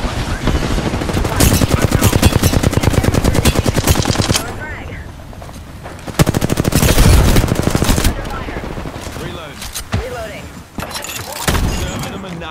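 Loud video game gunfire comes in long automatic bursts of rapid, close shots, separated by quieter gaps with thuds, while players' voices talk over the action.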